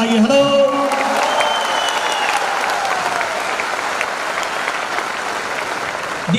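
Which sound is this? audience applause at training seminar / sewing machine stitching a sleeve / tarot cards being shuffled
audience applause at training seminar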